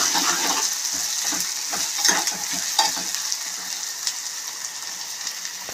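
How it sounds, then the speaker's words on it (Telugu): Finely chopped onions and small-cut chillies fry in a pan with a bright, continuous sizzle, close and steady, with the scrape and patter of stirring rising and falling throughout. "కట్ చేసుకున్న ఉల్లిపాయలు వేసుకోవాలి. చిన్నగా కట్ చేసుకున్న మిరపకాయలు"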